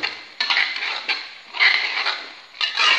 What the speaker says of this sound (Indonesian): kita aduk sampai dia kering